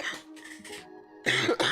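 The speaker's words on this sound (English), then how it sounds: "I'm gonna start coughing." A man breaks into coughing fits after laughing, with a short rough cough, a pause, and then a louder double burst of hacking close to the mic.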